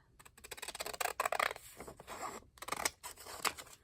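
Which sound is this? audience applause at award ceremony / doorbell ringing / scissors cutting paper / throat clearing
scissors cutting paper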